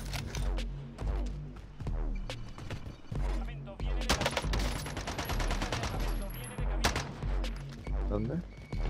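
Rapid bursts of gunfire in a Warzone Resurgence battle royale game, sharp repeated shots in clusters with short gaps, loud and close, with players talking in Spanish throughout.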